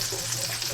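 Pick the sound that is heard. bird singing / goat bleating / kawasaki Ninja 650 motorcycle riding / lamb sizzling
lamb sizzling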